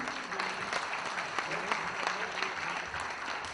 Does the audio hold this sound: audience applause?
yes